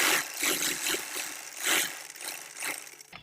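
A sewing machine stitching a seam on ladies' pajama pants, short bursts of rapid mechanical rattling with brief pauses between them, close up and fairly quiet.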